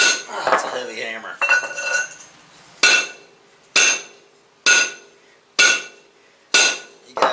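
Loud metallic clangs ring out as a 12-pound sledgehammer is swung repeatedly against a mini dozer's metal, about eight evenly spaced strikes, the later ones sharp and isolated with ringing tails.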